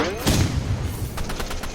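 A shotgun firing in the Roblox game Rivals, with one sharp, loud blast followed by a quick series of fainter shots and rattling reports.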